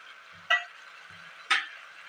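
A spoon scrapes twice through vegetable pulao in a pan as turmeric is mixed in, two distinct strokes about a second apart over a faint steady sizzle.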